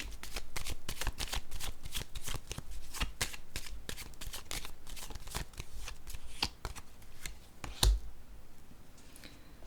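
Tarot cards shuffled and dealt out by hand, a dense run of crisp riffling flicks and slaps close up, with one sharper knock as a card is set down near the end.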